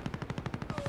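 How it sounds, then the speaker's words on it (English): Rapid automatic gunfire in the video game Modern Warfare, a quick burst of about ten evenly spaced shots in under a second, moderately loud with no voices. "He's shooting at me!"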